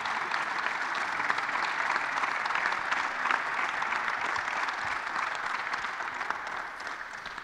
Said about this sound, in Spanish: Un aplaudiment per als autors del estudi